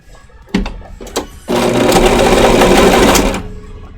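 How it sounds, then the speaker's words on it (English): A sewing machine stitching parts for an otter bodysuit runs in one loud, steady burst of about two seconds, preceded by a few short handling knocks and clicks. "We're sewing parts for the bodysuit."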